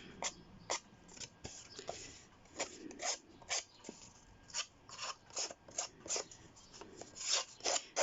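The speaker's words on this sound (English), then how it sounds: "I'm just going to do it with the edge of the scissors." Edges of paper roughened by scraping with the edge of a pair of scissors during a mixed media craft project, a series of short, close, rasping strokes in an irregular rhythm, fairly quiet, with no talking.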